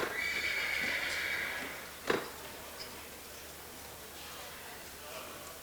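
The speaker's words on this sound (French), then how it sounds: "Lina s'amuse beaucoup avec ses poneys Shetland, elle les fait passer n'importe où" A Shetland pony gives a loud whinny at the start, and its hooves knock once or twice against a background of constant outdoor noise.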